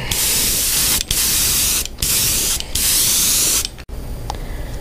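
Pearl white paint sprayed onto a fishing lure during a repaint, a loud close airbrush hiss in three long bursts separated by brief pauses, then cutting off to quiet.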